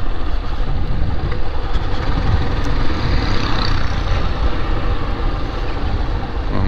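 Honda CG 160 Fan motorcycle engine with a strange internal noise, running close up with a steady low rumbling idle and a rough, rattly texture throughout.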